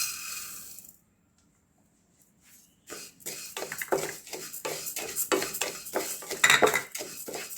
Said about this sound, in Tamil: நாம் பாசி பருப்பை வறுத்துக்கலாம்.